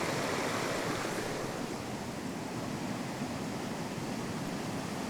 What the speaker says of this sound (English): There's water properly pouring out of the ground just here with quite some pressure.